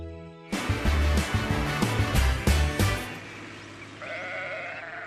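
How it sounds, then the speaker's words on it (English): Several cartoon sheep bleat in quick succession on a farm, loud overlapping calls with a musical backing, fading to a softer sustained tone near the end. "Old Pop often has to round up the sheep and get them into a pen"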